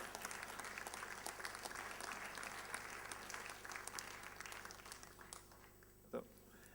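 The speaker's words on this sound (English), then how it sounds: "A round of applause" An audience applauds as a panel speaker is welcomed onto the stage at a marketing conference, with sustained clapping that fades toward the end, leaving one faint late clap.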